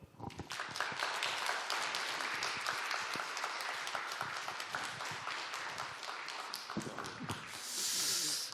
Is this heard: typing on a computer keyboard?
no